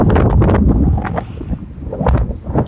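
Gusty wind in Michigan buffets the microphone, producing loud low rumbling bursts that swell and ease over a few seconds, with no voices present.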